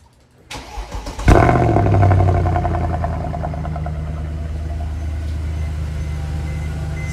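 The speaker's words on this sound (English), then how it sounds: "Six months and it hadn't been started and it just did. Just fires right up." A Mercedes W204 C63 engine starts after six months unused: a brief starter crank, then a sharp loud catch and flare that settles into a steady rumbling idle, close and unaccompanied by speech.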